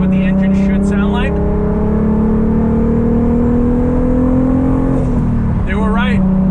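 An Audi RS3 engine with a Borla exhaust muffler hums at a steady, loud drone, then its pitch dips and shifts as the revs change, with a few bursts of talk over it.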